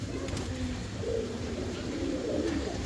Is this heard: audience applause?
no